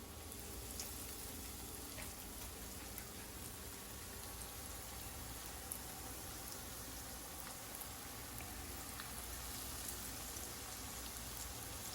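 Salmon patties sizzle in a hot skillet, a steady dense crackle with scattered pops, fairly quiet and continuous, with no talking.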